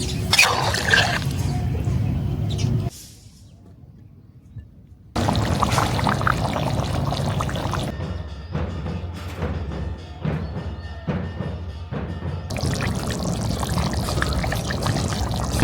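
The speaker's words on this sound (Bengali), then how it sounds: "এবার আমরা পরিমাণ মতন ঝোল দিয়ে দিব।" Broth poured into a pork masala curry after the meat has been browned, a steady close pouring and liquid splashing that fills most of the clip, with a short quiet gap near the start and a few faint thuds.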